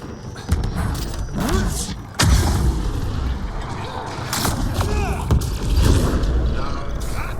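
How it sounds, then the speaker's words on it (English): Explosion in the video game Mass Effect: Andromeda, a sharp heavy blast partway through with rumbling impacts and mechanical game sounds before and after. "An explosion!"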